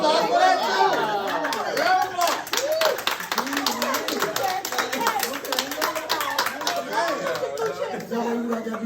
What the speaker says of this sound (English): Round of applause for that too.